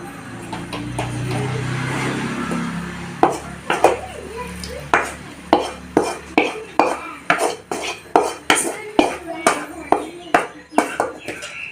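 Cooked dal and araikeerai greens are mashed with tomato and onion in a pot. A soft stir comes first, then a steady run of sharp, close knocks and clinks from the masher striking the pot, about one per second.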